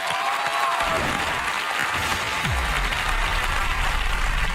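Light applause from a game show studio audience, brief scattered clapping with low background rumble and faint crowd murmur, fairly close and steady.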